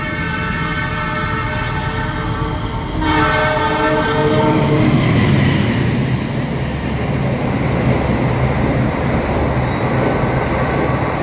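The Argo Semeru express passes through Klaten station, a loud train horn sounding at first before the rushing rumble and rolling wheel clatter of the passing cars takes over and holds steady.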